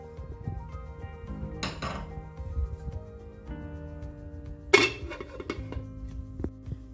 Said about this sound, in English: And now I will close it with a lid and let it boil for at least 3 to 4 minutes.